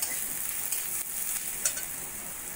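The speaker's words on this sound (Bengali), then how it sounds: "দিয়ে আরো কিছুক্ষণ ভাজা ভাজা করে নেব।" Golden fried onion with salt, turmeric and Kashmiri chili powder frying in a pan, making a soft continuous sizzle with a few brief stirring scrapes.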